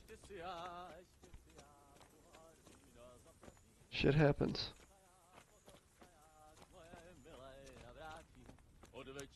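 Horse hooves in Kingdom Come: Deliverance sound as a short burst of galloping clatter in the middle, set between stretches of someone talking.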